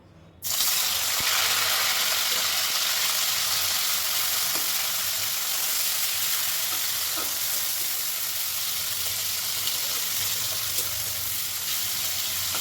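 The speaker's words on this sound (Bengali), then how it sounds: "লবণ আর হলুদ মাখানো চিংড়িগুলো আমি ভেজে নেব" Shrimp coated in salt and turmeric fry in hot oil, starting with a sudden loud sizzle that holds steady and close, with faint clinks now and then.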